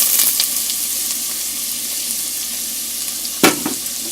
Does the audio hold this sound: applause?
no